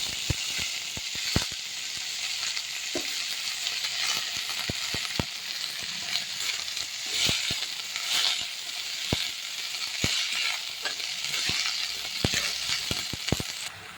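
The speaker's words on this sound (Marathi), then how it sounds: "लसूण मिरचीचे काप परतवले गेले आहे, त्यामध्ये आपण कांद्याची पात घालू।" Spring onion greens sauté in a pan with sliced garlic and chili under a steady, loud sizzle. Sharp clicks of stirring break through it at irregular moments, and no one speaks.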